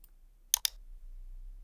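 Two sharp mouse clicks in quick succession, close and clean, against near silence with a low background hum.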